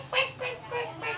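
A duck quacks four times in an even series of loud, nasal calls, close and clear with no talking over them.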